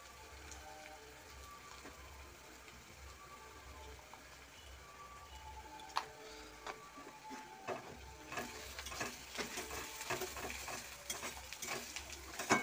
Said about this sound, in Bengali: তেল দিয়ে এখন পেঁয়াজটা ভাজতে বসিয়ে দিয়েছে